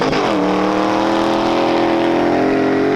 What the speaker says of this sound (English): They give you a professional driver and it takes you along the desert.